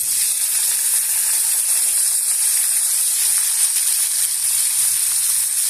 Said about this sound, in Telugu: నూనె వేడెక్కింది. ఇప్పుడు నత్తాలు వేసేద్దాం